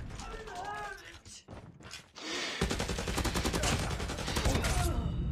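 Gunfire in the mobile shooter Call of Duty Mobile, dense bursts of rapid automatic shots with mechanical clatter, growing louder and more continuous in the second half after a brief lull.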